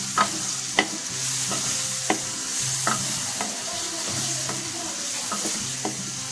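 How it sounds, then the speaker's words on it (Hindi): Potatoes frying in a spiced masala while being stirred, a steady close sizzle under repeated spoon scrapes and taps against the pan, with no talking. "अब मैं इसमें आलू डाल देती हूँ और इसको अच्छे तरीके से भून लेती हूँ।"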